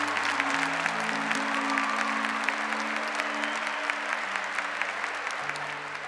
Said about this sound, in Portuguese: Pode aplaudir a palavra do Senhor.